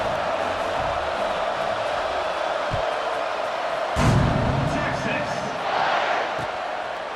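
Stadium crowd in EA Sports College Football 26, a continuous dense roar of a large audience with a thump and a swell of cheering partway through, under a play-by-play commentator's voice.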